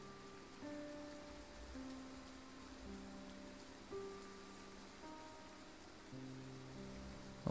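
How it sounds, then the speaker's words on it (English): Steady rain falls in the video game Triangle Strategy, a constant wash of patter with soft musical tones drifting over it and no talking. "Night is falling and the rain has yet to let up."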